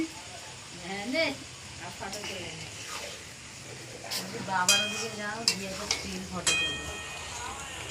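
Food is stirred and sizzles in a pan in a home kitchen, with scraping and frying sounds faint beneath people talking nearby.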